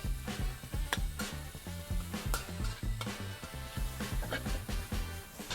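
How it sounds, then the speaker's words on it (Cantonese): Minced pork marinated in fish sauce is stir-fried in an oiled hot wok, giving a steady sizzle broken by rhythmic scraping and clacks from the spatula, moderately close and with no speech. "咁啊炒翻鬆佢。"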